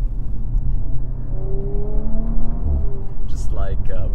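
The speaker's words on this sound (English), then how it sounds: "All of that goes together with the nice V6 noise which this car makes," Audi Abt RS5-R V6 engine hums steadily while driving, a low drone under continuous close-up talk from a person in the car.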